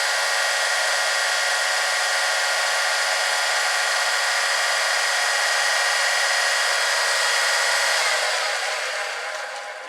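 A Power Fist 1x30x5 belt and disc sander runs with no load, giving a steady, even hum and whir close to the mic that holds the whole time and eases off slightly at the end.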